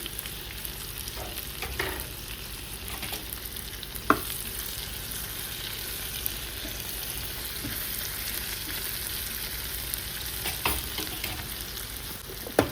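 Capsicum and egg curry, salted, sizzles steadily in a pan with an even frying hiss. Occasional sharp clicks of stirring break through, and there is no talk.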